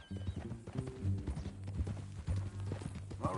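Horse hooves clip-clop at a steady walking pace in a PS4 video game, a string of soft, close knocks over low music and background hum.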